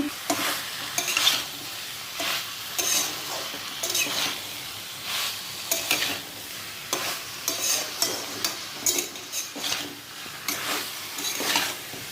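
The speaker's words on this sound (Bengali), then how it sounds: "এটা এখন মোটামুটি কষানোর ওপরেই আছে" Mixed vegetables with green peas being stirred and fried in oil in a kadai, a steady sizzle with repeated scraping stir strokes throughout, fairly close and with no one talking.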